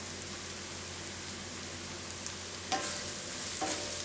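Coriander and turmeric powder sizzle steadily in oil in a pan for a Kerala-style chicken tikka masala. A spoon scrapes and clinks against the pan a couple of times late on, stirring the spices.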